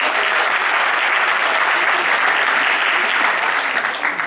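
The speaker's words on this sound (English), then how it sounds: "Ladies and gentlemen, a big round of applause for Scotland" Loud, dense audience applause fills a stage show aboard a cruise ship as a child is called up, a continuous close wash of clapping with no talking.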